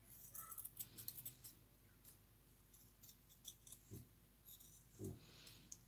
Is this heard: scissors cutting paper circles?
yes